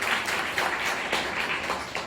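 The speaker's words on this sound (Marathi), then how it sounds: "टाळ्या मारायला नक्की हरकत नाही." An audience at a public event claps steadily for about two seconds, a dense patter of many hands with no voices over it.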